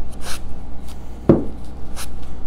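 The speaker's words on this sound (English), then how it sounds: "Once again, I'm using the sanding pad" A sanding pad rubs along wooden edges to give them a rustic farmhouse look, making a few soft, short scratchy strokes close by with a light tap between them and no voices.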